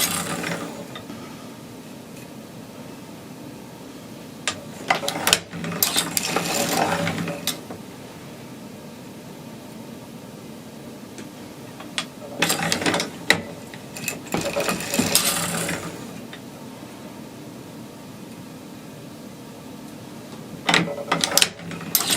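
Circular sock knitting machine being cranked, with bursts of clattering, ratcheting mechanical whirring a few seconds long at several points, separated by quieter stretches.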